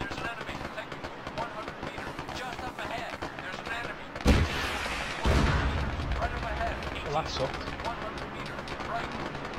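Gunfire and explosions in Apex Legends rumble under a person talking, with steady crackling shots and two heavier booming blasts partway through.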